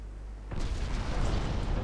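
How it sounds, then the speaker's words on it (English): Torpedoes detonate aboard a warship in a 1955 naval campaign game, a sudden deep blast erupting after a low hum and then rumbling on with continued crackling explosions. "I think I just blew up their torpedoes"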